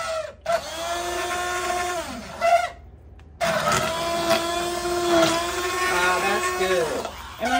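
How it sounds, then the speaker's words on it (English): An immersion blender whirs in two long runs separated by a brief pause, its steady hum rising and dipping in pitch as it churns. "Now we're gonna try the immersion blender."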